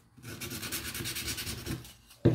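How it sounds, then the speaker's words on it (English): Sandpaper rubs back and forth on a wooden sign holder, a close, quick scratchy rasp lasting about two seconds, ending with a soft knock. "So I'm just going to take my sandpaper"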